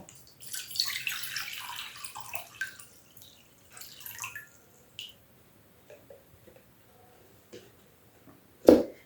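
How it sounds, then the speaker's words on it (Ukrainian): Water poured out of a container after an orchid soaked in an amino acid solution: scattered soft splashes and trickles in short bursts, with a sharper splash near the end, fairly quiet and with no talking. "я виливаю"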